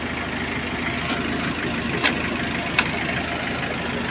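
A truck's 2.7 diesel engine idles steadily at close range, a constant rumbling drone with a couple of faint clicks, no voices.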